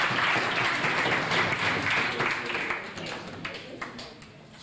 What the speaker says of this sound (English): we'll give a big round of applause to the team.